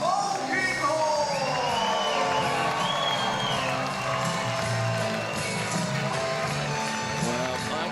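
A large crowd at a boxing event cheers and whoops continuously for local boxer Billy Polkinghorn's ring entrance, a loud sustained roar with shouting voices and excited calls throughout.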